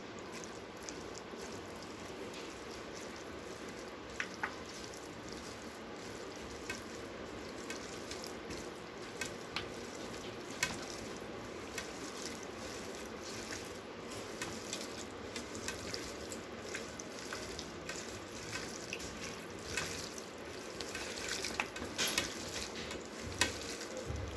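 Chicken curry with garam masala being stirred and mixed in a pan, soft scraping and wet stirring sounds over a faint sizzle, quiet and steady with occasional small clicks.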